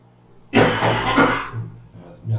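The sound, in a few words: person coughing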